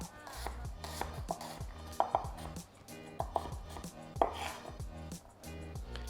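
A knife chops chilli and onions on a cutting board in quick, uneven bursts of close, sharp knocks.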